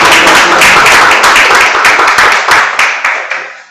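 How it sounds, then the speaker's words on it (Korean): A lecture audience at a social workers' association politics talk gives a loud, close round of clapping that holds steady and then gradually thins out as individual claps fade. "큰 박수 부탁드립니다"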